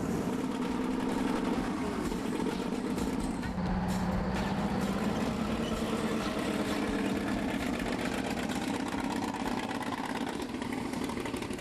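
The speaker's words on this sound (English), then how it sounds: "27 litres of V12 Liberty, one of a handful left in the world." A 27-litre V12 Liberty engine in a Crusader tank runs with a loud, continuous rumbling roar and no pauses, with voices faintly present beneath it.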